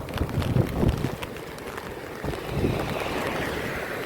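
Floodwater rushing through the broken culvert of a river at Hanumangadh after heavy rain, a steady broadband roar with gusty wind buffeting the microphone, loud and close throughout.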